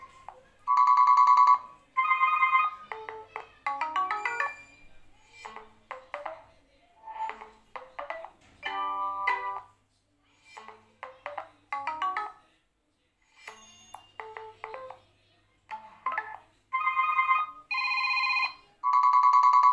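A Nokia C8 mobile phone ringtone plays a series of bright electronic melodies and chimes, switching between different tunes with short gaps, clear and close.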